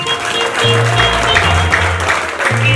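A church congregation breaks into sustained applause, dense clapping spread across the whole room with some voices mixed in, loud and continuous throughout.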